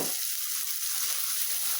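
Spice paste of ground ginger, cumin, garlic, coriander, chili and turmeric powder sizzles steadily in a hot pan, a close, continuous hiss of frying with no pauses and no voices.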